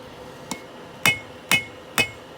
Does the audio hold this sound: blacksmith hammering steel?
yes